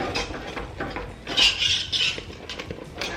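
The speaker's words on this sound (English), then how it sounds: "take my whisk, whisking it in." A whisk scrapes and clinks against a pan while mixing ingredients for a vegan buffalo chicken dip, a busy metallic swishing close by that swells in the middle.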